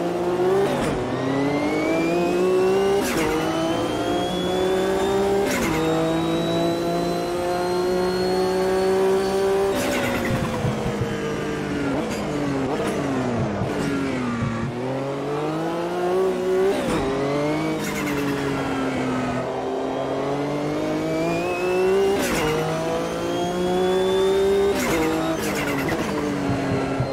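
Sportscar racing engines from the AMS 2 sim racing game, World Sportscar Championship race, loud and continuous with repeated rising revs, gear-shift drops and tire squeal as several cars run close together.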